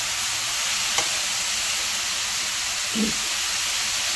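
Strips of spicy shredded pork sizzle steadily in a hot pan during a stir fry, a constant loud hiss with a faint clink of a utensil turning the meat.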